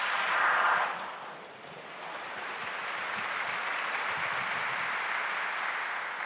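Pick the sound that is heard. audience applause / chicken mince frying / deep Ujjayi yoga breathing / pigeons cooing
audience applause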